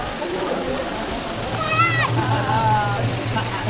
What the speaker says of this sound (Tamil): தண்ணி செதுருது.